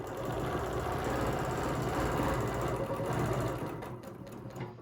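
Sewing machine stitching a quilt along a ruler, a continuous close, even motor hum with rapid needle chatter that slows and stops near the end.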